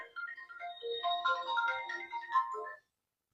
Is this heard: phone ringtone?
yes